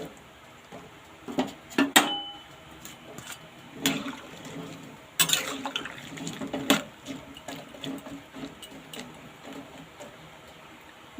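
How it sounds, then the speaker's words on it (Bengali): Taro stolons go into a pot of hot water with scattered clinks, knocks and light splashing, a few sharp close utensil taps over a faint bubbling background. "জলটা গরম হয়ে গেছে, এবার লতিগুলো দিয়ে দেবো এর মধ্যে।"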